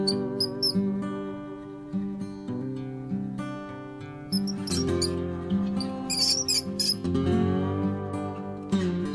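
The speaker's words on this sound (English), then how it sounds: "This is rat." High squeaks of a rat, several short bright chirps over a strong tonal musical backing that plays throughout.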